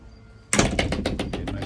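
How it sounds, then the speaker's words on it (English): A quick run of sharp, evenly spaced clacks and knocks as the cabin doors of a 2017 Carver C37 diesel boat swing and snap into their latches close by. "These doors can be flipped open and shut within a matter of seconds."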